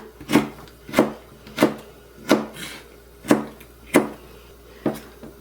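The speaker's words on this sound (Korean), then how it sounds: "홍초 2개도 쫑쫑 썰어서 넣도록 하겠습니다" Chili peppers being finely chopped with a knife on a cutting board, about eight crisp, evenly spaced knocks with short gaps between them, close and alone.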